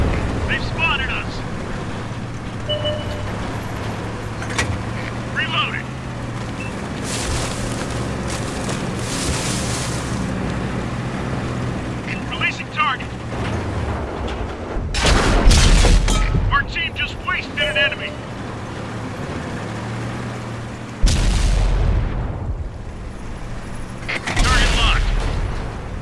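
Conqueror tank cannon in World of Tanks fires in heavy booming blasts, the loudest near 15 and 21 seconds with another around 25, set over a constant engine rumble with speech over the top.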